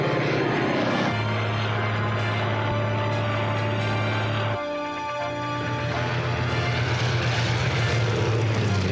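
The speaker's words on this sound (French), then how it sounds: "Abattez cet avion!" Propeller airplane engine in a cartoon, a loud continuous droning hum that shifts pitch midway, steady and close throughout with no talk.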